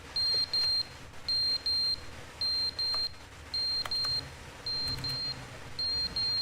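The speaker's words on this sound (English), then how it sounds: "I think that's a fire alarm." A fire alarm beeps in quick repeated pairs of high electronic tones with short gaps, steady and fairly loud against a faint background, during a stream of The Stanley Parable.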